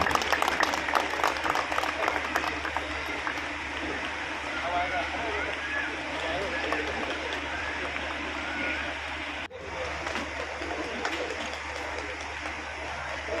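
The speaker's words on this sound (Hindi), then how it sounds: "जोरदार तालियां।" Loud, sustained applause from a crowd at a stage event, a dense continuous roar of clapping that holds steady for over ten seconds, with voices mixed in.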